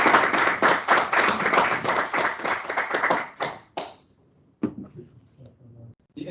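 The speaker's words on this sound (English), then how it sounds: "we need to be clapping" An audience claps after a talk on synchronisation, a dense burst of many hands for about three seconds that then thins into scattered claps and stops.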